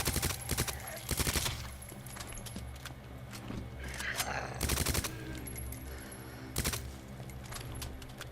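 Gunfire in Resident Evil 2 Remake, bursts of rapid sharp shots in several clusters separated by quieter gaps, loud and close over a low background hum.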